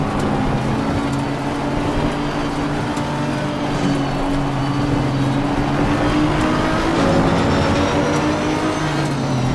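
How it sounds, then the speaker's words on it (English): The Audi R8 V10 roars steadily in Assetto Corsa Competizione, racing at night in the rain at Spa-Francorchamps. The loud, sustained engine drone is heard alone with no talk, its pitch shifting slightly as the revs change. "let you guys hear the roaring V10 of the Audi R8"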